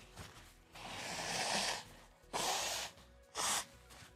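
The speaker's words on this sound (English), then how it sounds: "So I got to blow my nose." Several forceful nasal blows: one long gusty exhale followed by two shorter sharp bursts of breath, close and loud.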